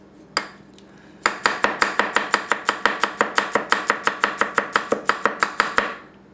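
A Tanaka Kurouchi 210mm gyuto knife chops food on a board, one isolated cut followed by a fast, even run of about twenty-five crisp chops, close and loud with no talk.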